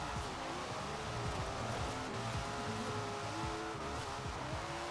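Rear-wheel-drive Nissan Skyline R34 drift build in a racing video game, engine droning at high revs with shifting pitch and tire squeal throughout a continuous slide, steady and loud with no talking.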